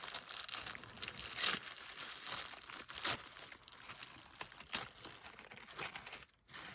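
Planner packaging being unwrapped, with soft crinkling and rustling of wrapping close by and a few louder crackles through a steady run of handling, with no talk.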